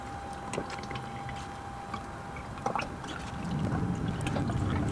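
Old power steering fluid from a Nissan 350Z poured out during a system flush, a soft continuous trickle and splash that grows fuller toward the end, heard close and alone without talk.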